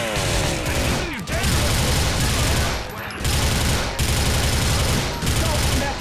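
Dense rapid gunfire from the video game GTA, loud continuous fusillade bursts broken by short pauses, with game sound effects mixed in.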